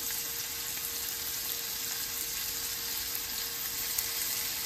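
Homemade breakfast sausage patties frying in a small skillet, a steady, even sizzle and crackle of hot fat that carries on without a break, close up and alone.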